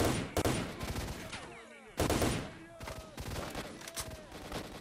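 Gunfire in the video game STALKER: Shadow of Chernobyl, rapid loud shots in bursts with echoing tails and game ambience between, close and dominant.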